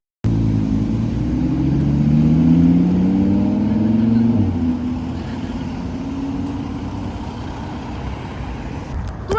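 Car engine noise rumbles steadily nearby, with a low drone that swells and fades as a vehicle passes, then settles into continuous traffic hum.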